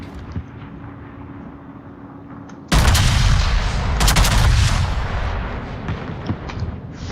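Battleship main battery guns in World of Warships, on the U.S. Iowa, fire as a sudden loud, booming salvo that rolls on with rumbling echoes after a quieter stretch of engine and ambient game noise.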